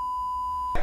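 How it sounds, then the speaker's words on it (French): A steady, shrill censor beep bleeping out insults sounds for most of a second, then cuts off into a brief burst of noisy sound. "j'ai dû tout biper sur YouTube"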